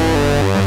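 Yamaha CS-15 analog synthesizer with both oscillators driven into distortion, giving a loud, buzzy sustained tone whose harmonics shift and thin out partway through, alone with no talk.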